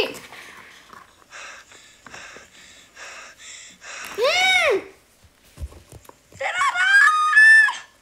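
In the 99 Nights in the Forest video game, a bird gives a series of repeated harsh squawks, then a loud swooping shriek and a burst of shrill chattering cries close by, with no one talking over it.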